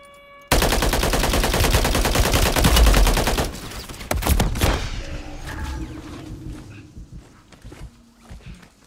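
Sustained automatic gunfire in a Call of Duty Modern Warfare 3 multiplayer match, loud rapid bursts for several seconds, then scattered shots and game noise fading out.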